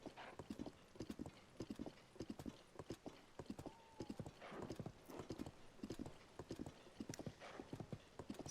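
Horse hooves clip-clop steadily in Zelda: Tears of the Kingdom, a brisk, even rhythm of close hoofbeats running through the whole stretch, with a brief whinny partway and no talking.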